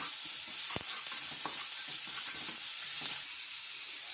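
Spinach frying with salt in a pan gives a steady broadband sizzle throughout, with a few stirring clicks and scrapes, then drops slightly quieter near the end; no talking.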